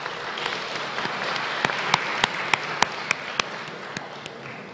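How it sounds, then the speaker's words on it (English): A graduation ceremony audience in a church gives a round of applause, a steady wash of clapping with a few sharper, louder claps standing out at irregular intervals. "May I have a round of applause for the church?"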